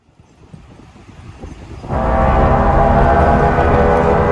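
Deep, brassy, trumpet-like blare in the sky, swelling from a low rumble into a loud sustained horn tone that holds steady to the end.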